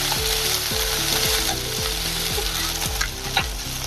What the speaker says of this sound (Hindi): बाद में हमने जो मसाला तैयार किया था कूटकर वो डाल देंगे। अच्छे से इसको मिक्स कर लेंगे।